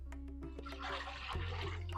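Water splashes and gurgles as it is poured into a cooking pot with milk, a short close-up pour with a low hum underneath.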